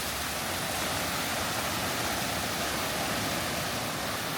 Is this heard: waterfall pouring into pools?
yes